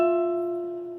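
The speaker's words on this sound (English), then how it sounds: "that guitar has bad intonation." A single guitar octave rings out from one sharp pluck and sustains evenly, slowly fading, its two notes audibly clashing slightly out of tune because the guitar has bad intonation.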